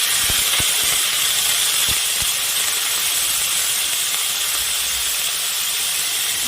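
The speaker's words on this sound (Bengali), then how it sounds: "এবার আমি এগুলো ভালো করে ভেজে নিব" Spices and onion paste frying in a pan for a Bengali katla fish curry with potato and drumsticks, a steady close sizzling hiss running throughout with a few faint clicks near the start.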